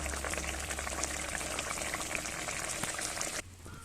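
A pointed gourd curry seasoned with cumin and garam masala powder simmers in a pan, giving a steady close bubbling and hissing with soft pops that quietens just before the end.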